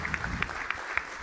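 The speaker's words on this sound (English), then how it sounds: "Please give a big round of applause to Patrick for this" Brief, fairly faint clapping from a tech conference keynote audience at Devopsdays India, heard as a soft patter of hands with a few sharper claps standing out.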